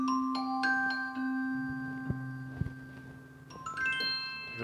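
Bell voice on a Yamaha NU1X hybrid piano, with bright bell-like tones struck in a melodic phrase that ring on and sustain clearly, played alone without any voices.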